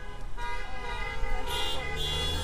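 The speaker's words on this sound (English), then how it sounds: "You can hear the honking." Car horns honk and toot over steady street and engine noise, several overlapping in sustained blasts, at a pro-Ukraine rally with a police escort.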